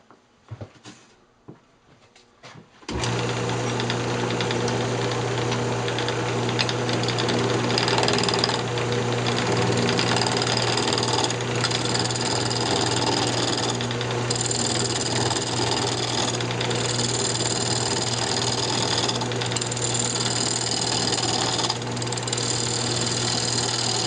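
A wood lathe trues up a glued wooden clutch blank, starting after a few quiet seconds and then running steadily and loudly with a constant mechanical whir and buzz throughout.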